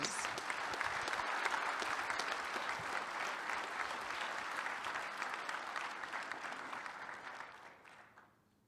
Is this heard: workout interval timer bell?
no